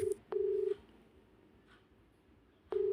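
A phone places a video call: short electronic tones, one brief beep, then a longer steady tone, a pause of about two seconds, and the tone starting again, faint and close over low background hiss, no talking.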